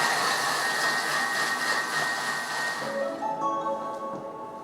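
Thermomix kitchen machine mixing warm water for bread dough at speed 4, a steady whirring motor drone that holds loud and constant, with the pitch shifting slightly near the end.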